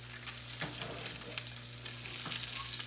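Salmon fillet seasoned with Old Bay searing in a hot pan, giving a steady, fairly loud sizzle and frying crackle throughout with a couple of brief stirring or contact clicks, no voices.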